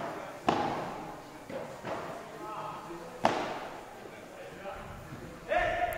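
Padel ball striking the racket and smashing against the court's back wall, three sharp separate impacts spaced a few seconds apart, with a person talking over the play.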